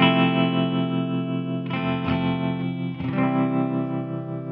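Bias tremolo effect from the Neuro mobile app shaping a sustained, distorted tonal chord that swells and pulses in volume, with a few brighter re-attacks, heard alone and close.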